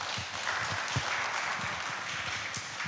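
Sustained applause from an audience after a speech at a youth peace forum, dense and even, with a few sharper individual claps, heard at a moderate distance.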